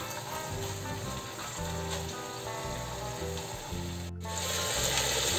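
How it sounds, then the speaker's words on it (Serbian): Chicken drumsticks and thighs frying in a pan on a stove, a steady crackling sizzle with scattered pops and spits, close and moderately quiet, running continuously without talk. "Batak i karabatak ćemo pržiti oko 5 minuta sa svake strane."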